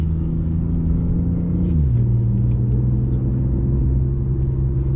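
A 2019 BMW i8 Coupé hybrid driving in electric mode moves along with a low steady rumble and road noise, its tone dropping once early on, close and continuous without talking.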